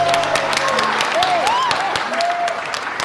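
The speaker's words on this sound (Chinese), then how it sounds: "首先让我们把最热烈的掌声送给这对新人。" Guests at a wedding ceremony clap for the newlyweds in a dense, moderate burst of applause, with voices and tonal sounds carrying over it.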